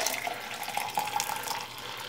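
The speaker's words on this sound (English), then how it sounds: "I'm just gonna pour it in there." Hot coffee is poured from a container into a cup in a home kitchen, a short, soft trickling stream of liquid heard alone at close range.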